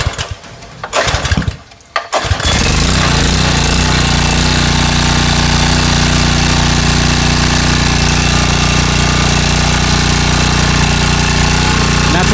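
After a couple of short pulls, a small engine freshly fuelled catches and settles into a loud, steady drone that runs unbroken right to the end.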